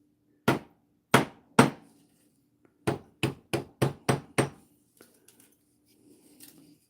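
A hammer strikes copper chain links on a hard surface to work harden them, with three spaced blows followed by a quicker run of six sharp metallic taps, then faint clinks and handling noise.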